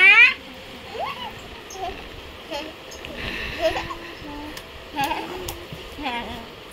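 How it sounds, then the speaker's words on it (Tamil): Water is poured over a baby being bathed, splashing and pouring, with adults talking over it and a brief loud burst at the start. "ஐயோ தண்ணி விட்டா"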